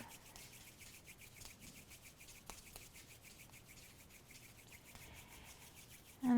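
Hands and feet rub together in a steady, soft rhythmic swishing during a yin yoga session, close and faint, with a brief louder tone at the very end.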